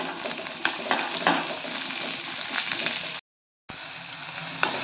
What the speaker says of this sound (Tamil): அதே வடச்சட்டியில் கொஞ்சமாக எண்ணெய் ஊற்றி கொட்டையை எடுத்து வச்சா கலாக்காயை போட்டுக்கலாம் அடுப்பை சிம்மில் வச்சு வதக்கிக்கலாம்